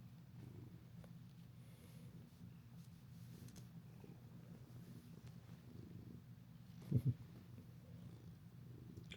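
A cat purrs steadily and softly up close for several seconds, a low continuous rumble, with a brief louder bump partway through.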